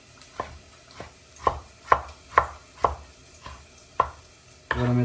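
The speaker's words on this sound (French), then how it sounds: "On va couper notre tomate grossièrement." A knife roughly chopping a tomato on a board, eight distinct, fairly evenly spaced cuts close up, followed by a brief louder rustle at the end; no talking.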